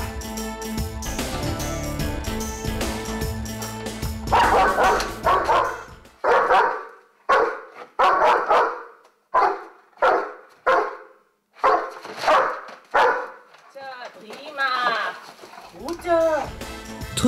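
A German Shepherd barks loudly and repeatedly in regular bursts, close by, after a stretch of busy noise, with a few whiny yelps near the end.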